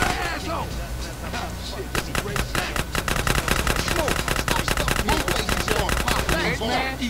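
Rapid bursts of automatic gunfire rattle continuously in Grand Theft Auto: San Andreas gameplay, dense repeated shots over game music and effects, with a voice talking over the shooting.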